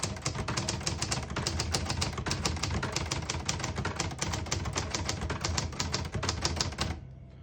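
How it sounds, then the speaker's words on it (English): Typing on a 1967 Hermes 3000 portable typewriter printing in red ribbon, a fast, even run of sharp close key strikes for about seven seconds, then stopping abruptly. "I'll type a sentence in red on the next line and switch from black to red"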